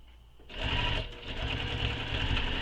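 A sewing machine stitches a bag panel, a steady close mechanical whir after a quiet start, briefly dipping about halfway through before running on continuously.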